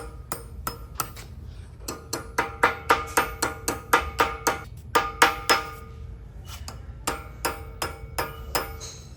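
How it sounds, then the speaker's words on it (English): A hand hammer strikes glancing blows on metal while forging decorative letters without an anvil, giving a long series of sharp, ringing taps in an irregular rhythm with short pauses, close and clear. "By striking glancing blows, I'm able to turn it."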